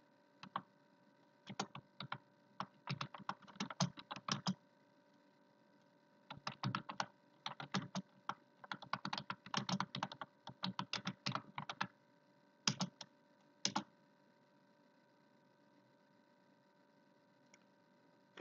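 Typing on a computer keyboard in bursts of quick, close keystrokes separated by short pauses, fading to quiet near the end.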